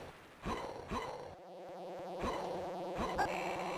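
Insects stuck on the player character's head in the Mega Drive game Sword of Sodan give a continuous electronic buzzing drone, with rhythmic thuds and pulses repeating through it at moderate loudness.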